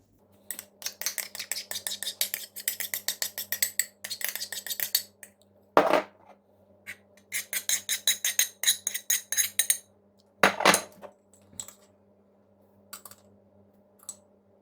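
Yogurt, sugar and cream are spooned into the plastic container of a Silvercrest SEM 90 C3 ice cream maker, bursts of rapid clinking and tapping with two sharper clunks and quiet pauses between.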